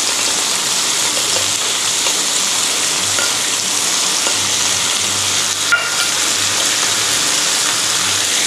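Beef and red and yellow peppers stir-frying after oyster sauce goes into the pan, a loud continuous sizzle with soft scraping of the utensil throughout and one sharper clink near the end, no voices.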